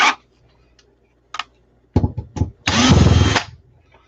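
A handheld power drill revs in short bursts, a few brief whirs followed by a longer, louder run of about a second, close by, with no talk over it.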